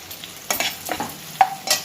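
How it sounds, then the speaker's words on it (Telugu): Chopped green chillies and ginger pieces go into a pan for upma, giving a few short bursts of sizzle and light stirring scrapes over a quiet background, with no one talking. "ఒక 4 పచ్చిమిరపకాయలు చిన్న ముక్కలుగా తరిగి వేసుకోవాలి"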